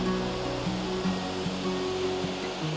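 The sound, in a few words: waterfall near a reservoir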